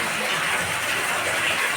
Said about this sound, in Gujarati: જોરદાર પાણી આવી ગયું હોય ભાઈ.